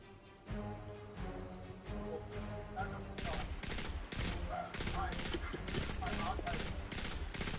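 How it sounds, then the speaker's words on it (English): Rapid, continuous weapon fire in the Destiny 2 video game, starting moderate and growing into loud, dense bursts of staccato shots that run through to the end with little break. "I'm firing my gun thingy."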